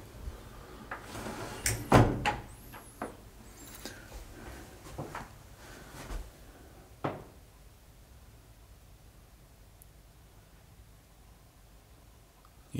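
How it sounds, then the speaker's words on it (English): A door swings shut inside an empty, abandoned 1930s Tudor-style house, with a cluster of knocks and creaks, one sharp thud, and a final clack before a quiet, hollow room tone. "Just close the door over."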